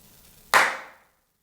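A single sharp hand clap rings out near and loud, then decays into a long reverberant tail in an open, quiet room during a Korean study gathering.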